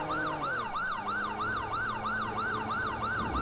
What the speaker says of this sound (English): I'll cut my siren when we get close